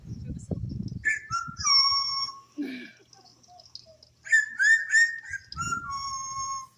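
At a bird show in a safari park, a bird whistles a string of clear, sliding melodic notes in two bursts, with a person speaking briefly between and around them.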